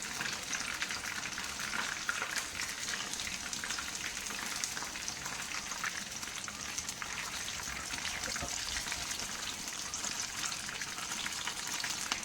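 Chicken frying in hot oil, a dense, steady sizzle and crackle close by that continues without a break throughout.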